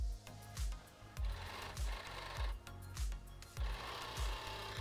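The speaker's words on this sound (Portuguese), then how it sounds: "vou aqui na overlock unir as pontinhas do forro com o tecido principal" An overlock sewing machine stitches a bikini's lining to its main fabric in short repeated bursts of mechanical whirring. Each burst is close and moderately loud, with brief gaps between runs.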